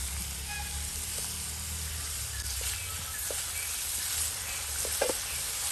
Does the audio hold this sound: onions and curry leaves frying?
yes